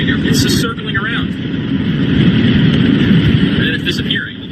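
A huge airplane circling at night, its broad low engine rumble droning steadily throughout and swelling slightly in the middle, with people talking over it at the start and end.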